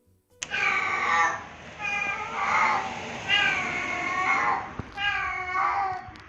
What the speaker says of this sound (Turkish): Eğer bir kedi miyavlamak yerine bağırıyorsa bozabilir.